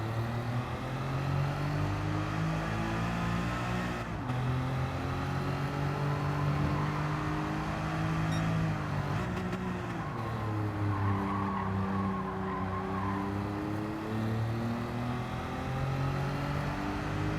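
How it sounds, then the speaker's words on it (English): A Ferrari spinning round in circles in the Gran Turismo 7 racing game, its engine droning steadily with rising and falling revs and tire squeal, moderately loud and unbroken. "We've got a little Ferrari going round and round in circles."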